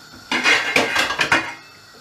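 A spoon scrapes and clanks against a pot while stirring washed rice over high heat for chicken pilau, a quick series of four or five metallic scrapes and knocks.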